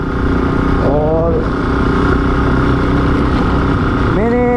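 Motorcycle engine with a slight fault running close by, a loud continuous rumbling drone with rising pitch sweeps as it revs, while someone speaks briefly over it.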